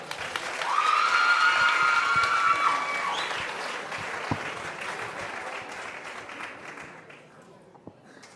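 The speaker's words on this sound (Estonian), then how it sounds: "Aplaus, palun!" An audience at a school playback show breaks into dense, sustained applause with some cheering and whistling, then gradually fades, ending in a few scattered claps; voices are mixed into the crowd.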